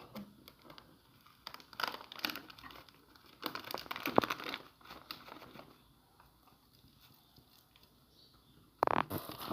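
A packet of Radhuni ready-mix biryani masala crinkles and rustles in soft, intermittent bursts while it is added to a biryani mixture of tomato, onion, ginger and garlic paste, with a louder crinkle near the end.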